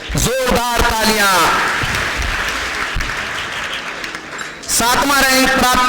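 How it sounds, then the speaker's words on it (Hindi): Loud applause from an audience at a prize distribution ceremony, steady dense clapping filling the clip, with speech over it at the start and again at the end. "जोरदार तालियां।"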